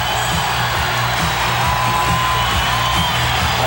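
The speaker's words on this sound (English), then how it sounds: "Listen to the crowd in Portland. They want their team to come back." Dense arena crowd roar from Portland fans at a 1992 NBA playoff basketball game, Blazers versus Suns, a steady loud wash of cheering and shouting with no break.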